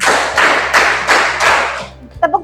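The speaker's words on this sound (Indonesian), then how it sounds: "tepuk lima," Five evenly spaced group claps ring out from a class of students clapping together on count, each bright burst of many hands decaying quickly, with a short spoken voice afterward.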